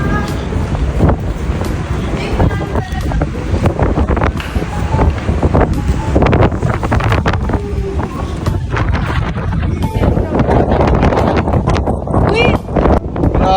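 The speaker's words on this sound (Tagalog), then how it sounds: "Grabe, lakas ng hangin." Strong wind buffets loudly and continuously across a cruise ship's open deck, roaring gusts battering close up, with people talking underneath.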